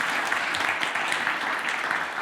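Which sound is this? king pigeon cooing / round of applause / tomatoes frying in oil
round of applause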